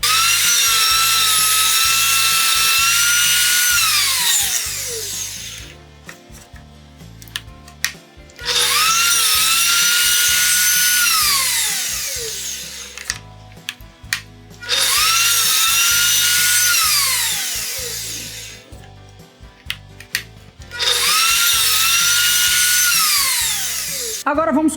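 Table saw cutting wood to make a molding jig, four loud cuts in a row, each a high whining blade bite that trails off between passes, with some talk underneath.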